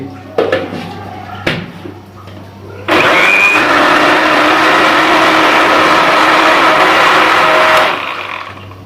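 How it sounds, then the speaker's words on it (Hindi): Mixer grinder blending apricot and tamarind pulp with a little water for chutney; after a few brief clunks and handling noises, the motor starts at about three seconds and runs loud and steady for roughly five seconds before stopping. "अब इसे हम ग्राइंड करेंगे।"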